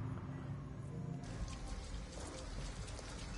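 Steady rain in a video game hisses and patters continuously at a low level, with a soft shift in texture partway through.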